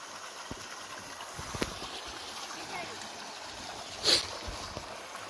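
River water flowing near a large rock along a scenic stretch by a waterfall in Minas Gerais, a steady soft wash of current under the whole stretch, with a brief louder splash near the end.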